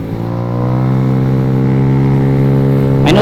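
A Yamaha Zuma 125 (RC158) scooter cruises on a freeway, its small engine holding a loud, steady drone that climbs slightly in pitch, with a sharper burst near the end.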